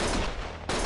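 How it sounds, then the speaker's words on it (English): A short, dense burst of rapid gunfire from the Lost Judgment video game, loud and close, briefly dipping before a renewed blast in under a second. "Stop shooting!"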